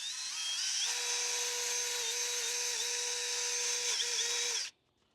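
A grinder whines steadily on the frame of a 1988 Chevy Silverado during C-notch work, a sustained high-pitched tone with slight pitch dips under load, then stopping abruptly near the end.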